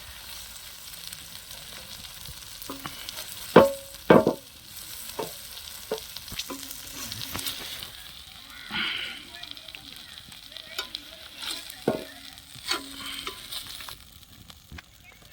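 Fish sizzles and fries on a tawa in a village-style fish fry, with scattered stirring and scraping clicks, a few sharper knocks near the start and steady crackle throughout.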